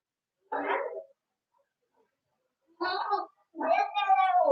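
Bobcat-like wild cats crying at night near sheep, three separate yowling, meow-like wails, the last one long and drawn out, heard at moderate distance in otherwise quiet darkness.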